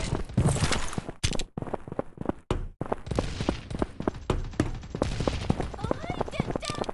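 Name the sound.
gunfire from the video game Mini World Royale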